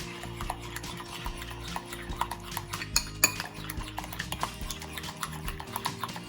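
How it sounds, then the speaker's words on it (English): Salt, olive oil and ingredients for a Greek meatball traybake are stirred in a bowl, a close run of rhythmic clinking and scraping of a utensil against the dish, with no voices. "Give that a good old mix up"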